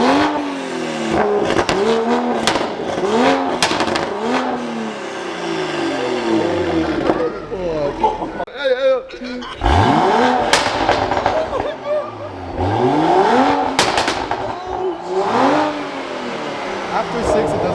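A car engine with a Porsche-like tone starts and revs hard again and again, close and loud, each rise and fall standing out, with a few sharp pops and excited talk around it.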